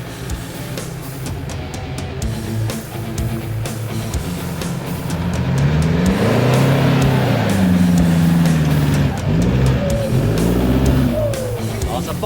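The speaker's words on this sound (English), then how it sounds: "Up next we have Eric van der Walt with his white Hilux" A white Toyota Hilux 4x4 at an off-road event revs hard with rising and falling engine tones, loud and sustained, while a commentator talks over it throughout.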